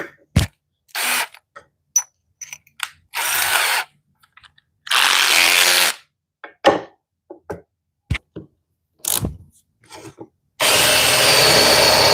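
A drill with a Forstner bit whirs in several short, loud bursts separated by pauses and small knocks, ending with a longer sustained run.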